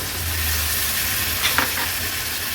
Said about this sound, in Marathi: आता आपण ह्या शिवल्या ऍड करूया